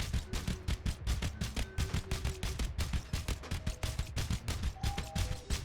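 Vandal rifle bursts in Valorant, a rapid, rhythmic series of loud, sharp gunshots fired in short clusters with brief gaps between them, close and continuous over background game ambience.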